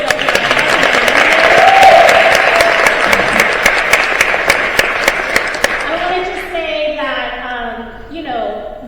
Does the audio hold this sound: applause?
yes